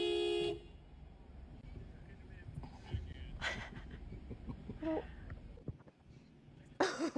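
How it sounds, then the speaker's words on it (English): A car horn gives a short, bright toot at the start, followed by quieter background noise, scattered bursts of sound and a throat-clearing or cough-like noise, with another loud burst at the end. "Surely he won't honk a second time."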